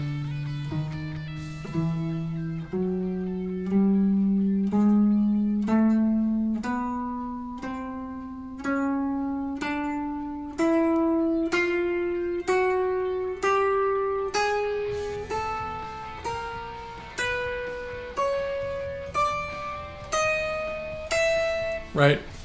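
Guitar finger dexterity exercise played string by string from low to high, a steady sequence of single plucked notes climbing gradually in pitch, each ringing briefly, clear and close with no voices.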